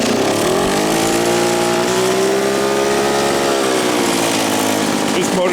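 A small gas engine with a clutch revs loudly close by, its buzzing drone rising and falling in pitch without a break.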